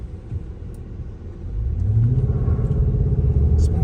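A pickup truck towing a load launches from a standstill toward 60, its engine rumble building into a loud, rising rev that stays close and continuous with no talk.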